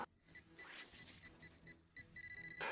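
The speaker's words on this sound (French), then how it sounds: "Le pointeur est un petit détecteur de métaux." Faint electronic beeping from a small metal detector pinpointer out on the ice in extreme cold, with short high tones that repeat irregularly and then come as a quick burst near the end, with no speech.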